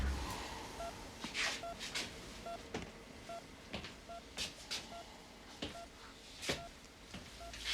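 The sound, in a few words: telephone being dialed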